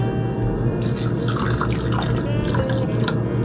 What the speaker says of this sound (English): I'm gonna try to pour this without spilling it.